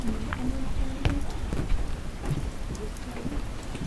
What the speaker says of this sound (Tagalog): May ulan eh.